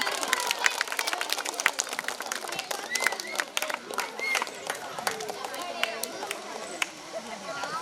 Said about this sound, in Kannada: ಚಪ್ಪಾಳೆ ತಟ್ಟಿ ಮಕ್ಕಳು ಎಲ್ಲರೂ